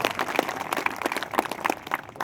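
An audience at a community honour ceremony in Nohar claps steadily and fairly close, a brief dense patter of applause with no talk over it.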